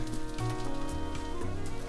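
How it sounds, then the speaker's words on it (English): Sesame oil drizzled around the edges of a hot pan of Korean zucchini pancakes crackles and sizzles steadily for about two seconds, a dense, close, even hiss with no talking. "We're going to drizzle a little bit of sesame oil all around the edges of the pan"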